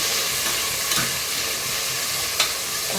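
Onion and tomato sauté in a pan for a banana-flower biryani, a loud, steady hissing sizzle throughout with a couple of faint stirring knocks, close up and without speech.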